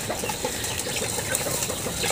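Free-range village chickens let out in the morning to feed make soft, scattered clucks and scratching noises amid faint rustling and outdoor background, with no talk.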